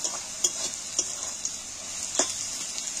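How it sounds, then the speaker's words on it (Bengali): Onion frying in hot oil over high heat, a steady close sizzle with intermittent clinks and scrapes of a utensil stirring against the pan. "পেঁয়াজটা যে তেলের মধ্যে দিয়েছি, ভালো করে আমি লাল করে ভেজে নেবো।"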